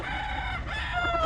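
Rooster crowing at a pet market in Calumpit, a long drawn-out call held across the whole moment, loud and close amid steady crowd noise.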